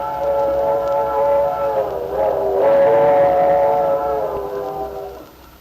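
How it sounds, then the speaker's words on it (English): A steam train whistle sounds in one sustained, wavering blast with layered harmonic tones, fairly near and loud, fading at the end with no talk over it. "There's our whistle, Lefty. Yep, the 7:15."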